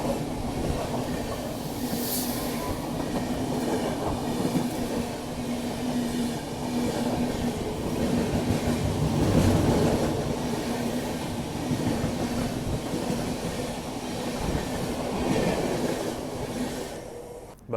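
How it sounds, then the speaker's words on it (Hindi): The Howrah Rajdhani Express crawls slowly through extreme fog, giving a steady, continuous rumble of wheels and carriage noise with faint rail clatter from inside the moving train, with no voices. "हमारी ट्रेन देखो कैसे क्रॉल करते हुए चल रही है"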